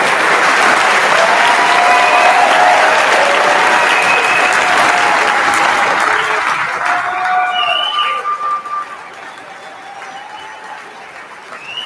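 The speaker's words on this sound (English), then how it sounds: "So one more time, please stand and let's clap for you." A standing audience at an honors ceremony applauds its honorees with loud, sustained clapping and a hint of cheering, which gradually thins and fades toward the end.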